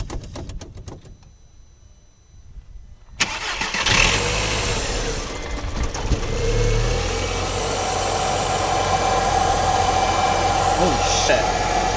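A modified Audi TT cranks and fires after a quiet moment with voices, then settles into a loud, rough idle that rumbles steadily close by as people keep talking over it.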